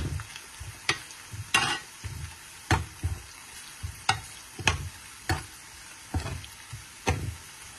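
Garlic fries as a tempering in a pressure cooker, a steady sizzle under regular scraping strokes of a spoon stirring the pot, about a dozen close, sharp scrapes.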